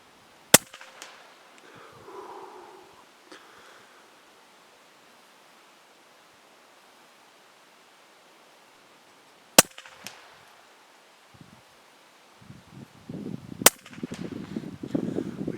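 A Huben K1 air rifle fires at targets outdoors in wind: two sharp, isolated cracks spaced a few seconds apart, with a quieter click early on, and gusty wind noise building toward the end.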